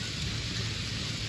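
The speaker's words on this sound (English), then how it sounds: "And rain is coming down." Steady rain pours down outdoors under a gray sky and patters into a puddle on grass, a dense continuous hiss with no voices.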